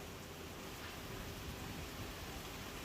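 Heavy rain pouring down in Amreli, Gujarat, during an unseasonal summer storm, a dense, steady hiss that stays even and continuous throughout, fairly quiet overall.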